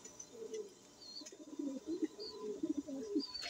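Pigeons in a backyard fancier's loft give low, soft cooing murmurs that ripple in short overlapping phrases, fairly close and steady, with a few faint higher chirps above.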